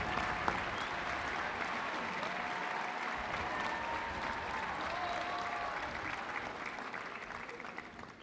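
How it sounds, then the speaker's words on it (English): Loud, sustained applause from a large audience honouring award-winning teachers at a university commencement ceremony, steady clapping filling the whole span without a break. "Please join me in giving these extraordinary teachers a round of applause."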